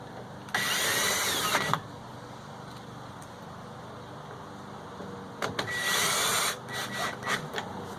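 Screws on a newer Briggs engine being driven in with an 8mm socket: two loud bursts of whirring power-tool spin, about a second each, separated by quiet with faint clicks.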